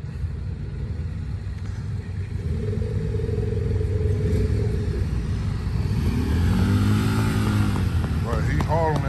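A motorcycle engine rumbles and revs up at a car and bike show, the pitch rising and falling as the throttle opens, with a loud low drone throughout.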